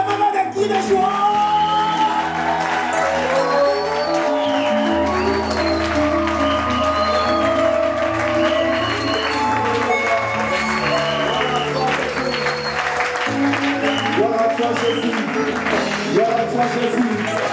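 A church congregation at an evangelical service cheers and applauds loudly and continuously, dense clapping mixed with shouts, whoops and sustained voices, with music and singing running underneath the whole time.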